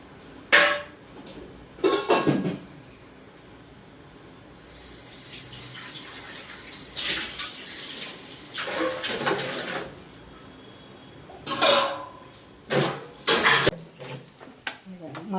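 Kitchen tap water runs into a sink while mushrooms are washed, a steady hiss broken by louder splashing bursts and faint clinks of dishes, with no talking.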